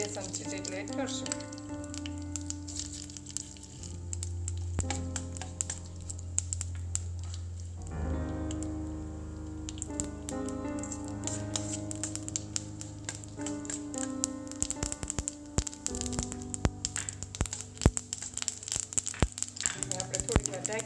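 Mustard and sesame seeds splutter in hot oil in a pan, with a dense, continuous crackle and sizzle of rapid pops throughout, close and steady, under a constant lower hum.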